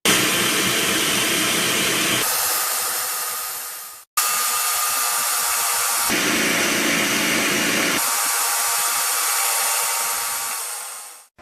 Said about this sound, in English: once it forms a ball, then you take it out of the food processor